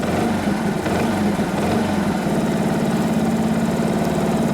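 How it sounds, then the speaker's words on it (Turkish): Light throttle on a Yamaha MT-125 motorcycle engine after an oil change: a close, uneven running note for the first couple of seconds that settles into a smooth, even idle-like putter, with no talking. "Çok hafif gaz veriyorum."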